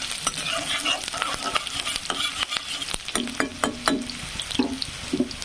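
Onion frying in a pan, a continuous close sizzle with repeated scraping and tapping from a stirring spatula, steady throughout and without talk.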